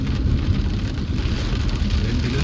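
Heavy rain during a night drive on the Tirupati highway, a dense, steady hiss of rain drumming over the low rumble of the car, loud and unbroken throughout.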